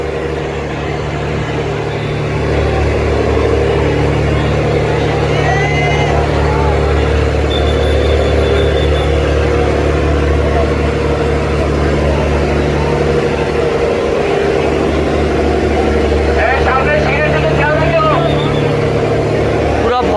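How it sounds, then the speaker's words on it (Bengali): Diesel engines of crowded passenger river launches, among them the M Khan 7, drone steadily as the vessels depart. The low throb runs loud throughout, with people talking over it and faint horn-like tones in the background. "ভরপুর যাত্রী নিয়ে আজকে বের হয়ে যাচ্ছে লঞ্চগুলো"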